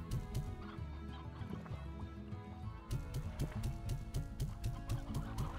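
A chicken in the video game Slime Rancher clucks repeatedly in quick rhythmic bursts, close and fairly clear over a soft ambient music bed.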